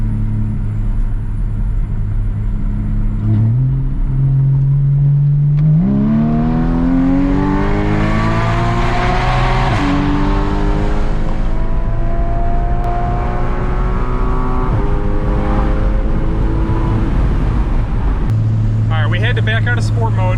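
Porsche Cayman S 981 with a boxer engine accelerating onto a freeway, a steady loud droning engine note that climbs in pitch through a long pull, with someone talking over it from inside the cabin.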